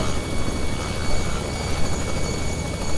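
Robinson R66 turbine helicopter in flight on autopilot approach toward a runway, a steady broadband rotor and turbine roar filling the cabin with a continuous, even drone throughout.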